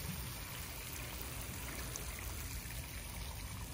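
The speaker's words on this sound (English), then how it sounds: "And then now I'm just pouring this in." A water and fertilizer mix pours steadily into a plant bin, a continuous soft trickling splash without pause, fairly quiet and close.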